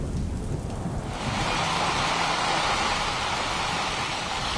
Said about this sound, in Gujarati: વહેલી સવારે ધીમી ધારે વરસાદ શરૂ થયો હતો